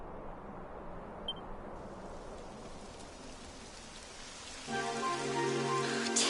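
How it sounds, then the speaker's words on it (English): Rain begins in Dragon Quest XI as a soft, constant patter and hiss, with sustained tonal music swelling in over it near the end. "It would have to go and start raining"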